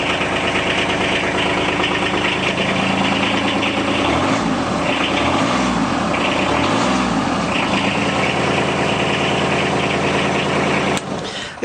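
Diesel engine of a 2016 Kawasaki Mule Diesel Pro DXT LE utility vehicle idling just after start-up, a steady loud clattering rumble with slow rhythmic swells in the low throb, close by and without speech, cutting off near the end.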